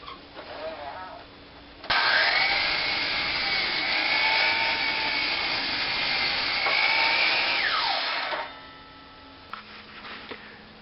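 A Ridgid miter saw on its stand cuts a board for a raised vegetable bed: the motor spins up, holds a loud steady whine through the cut for about six seconds, then winds down, with quieter handling noise before and after.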